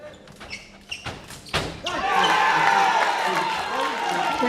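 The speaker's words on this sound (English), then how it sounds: "And the crowd really excited already" Loud crowd cheering and applause fill a fencing venue during a men's sabre gold-medal bout at a European Olympic qualifier, swelling after a few sharp thuds and sustained at a high level under a commentator's voice.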